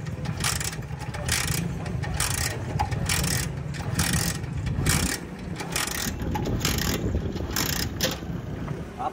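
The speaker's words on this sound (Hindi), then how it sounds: "3-4 हमने इसको किक्कें लगानी है खाली" Motorcycle kick-started several times with the ignition off, a repeated rhythmic mechanical ratcheting and thumping of the kick lever and engine turning over, close and fairly loud, without firing.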